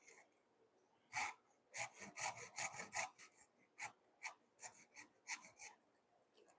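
A hand saw rasps through a wooden corner brace in a home workshop, a run of quiet, quick back-and-forth strokes in uneven bursts with brief pauses between them.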